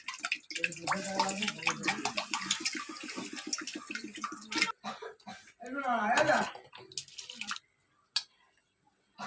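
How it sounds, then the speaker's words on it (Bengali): Water splashes and trickles as it is poured over lentils for boiling with green chillies. The sound is close but fairly soft, and a voice talks over parts of it, with quiet pauses near the end. "এই যে জল দিয়ে দেব।"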